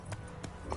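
A horse's hooves strike in quick succession in The Witcher 3: three sharp, close thuds spaced roughly a third of a second apart, clear over a low background rumble.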